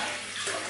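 Water runs steadily from a tap while a face is rinsed clean after a wet shave at a bathroom sink, a close, continuous splashing hiss with no talk.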